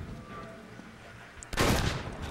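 Shotgun blasts in an Uncharted 2 shotgun-only deathmatch: quiet game ambience gives way to a sudden loud burst of gunfire that keeps rumbling to the end.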